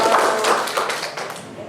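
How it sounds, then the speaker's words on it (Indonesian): A classroom audience of students bursts into applause, a loud, dense patter of many hands clapping that swells quickly and then tapers off over under two seconds. "tepuk tangan kita semua"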